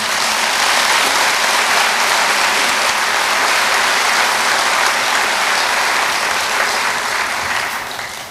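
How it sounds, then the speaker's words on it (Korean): Loud, sustained applause from a large audience at a provincial governor's inauguration ceremony in South Korea, thick continuous clapping that stays strong for several seconds before easing off at the end. "그래서 그 어떤 분보다도 저는 김원기 의장님께 여러분들께서 큰 박수 한번 좀 보내주셨으면 좋겠습니다"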